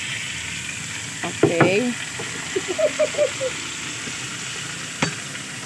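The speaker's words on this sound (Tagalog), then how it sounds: "Ihulog na itong squid." Squid dropped into a hot pan for Filipino adobong pusit bursts into a loud sizzle, followed by a steady frying hiss with scattered clinks and stirring sounds; a voice speaks briefly.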